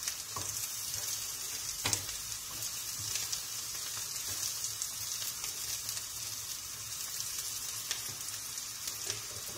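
Onions fry in a pan for karnıyarık, a dense, continuous sizzle with faint crackles and a few sharp ticks from stirring, with no voices over it.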